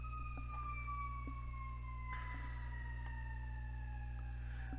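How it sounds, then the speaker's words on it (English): Ambulance siren passing at a distance, a faint, slowly falling wail over a low steady background hum, with no one talking. "I'll wait till this ambulance goes by."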